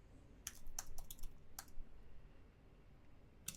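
Computer keyboard typing in short clusters of crisp key clicks with gaps between them, close and clear over a quiet background.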